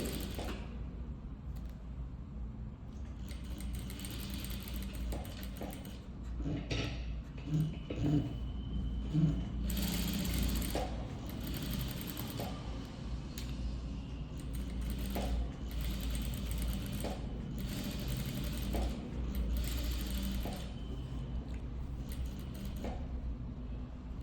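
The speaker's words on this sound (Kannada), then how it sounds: "ಎಡ್ಜಿಗೆ ನೀಟಾಗಿ ಸ್ಟಿಚ್ ಹಾಕ್ಕೊಂಬನ್ನಿ ನೀಟಾಗಿ ಅಡಿಜಿಗೆ ಸ್ಟಿಚ್ ಹಾಕ್ಕೊತೀನಿ" A sewing machine runs in repeated bursts, stitching along the edge of a boat neck, with a steady close mechanical whir and clatter and short pauses between runs.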